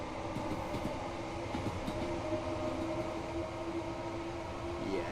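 A train runs in Train Sim World 2 on a London commuter line: a steady, close rolling rumble with a thin sustained electric whine that holds throughout, with no voices over it.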